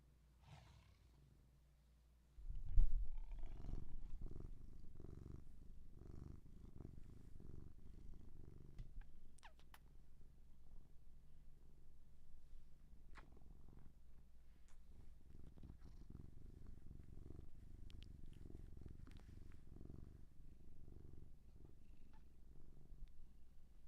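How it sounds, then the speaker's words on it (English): A cat purrs close to the microphone, a steady low rumbling purr that continues for a long stretch after a brief handling bump, soft and even with slight breathing pulses. "Can you hear him purring?"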